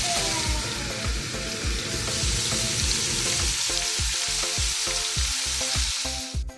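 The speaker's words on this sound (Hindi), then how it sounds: "हाई फ्लेम पर हम इसको अपने ये जो प्याज है इनको हम फ्राई करेंगे" Onions frying on a high flame for chicken white pulao, a loud continuous sizzle with rhythmic stirring scrapes in the second half, close and steady with no talking.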